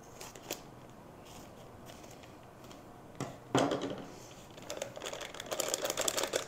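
Scissors snip open a food package at close range, with a few separate crisp cuts and then a rustling, crinkling stretch of plastic as the package is handled.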